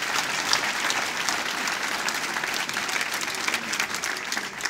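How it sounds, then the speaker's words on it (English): A collective round of applause from the audience at a candidates' meeting, a steady, moderately distant wash of clapping from many hands without a break. "How about a collective round of applause right now?"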